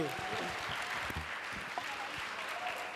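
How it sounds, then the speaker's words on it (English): Audience applause after a panel at an enterprise development training event, a fairly quiet, diffuse patter of clapping with a few sharper claps and some voices mixed in. "Can we please give them a round of applause?"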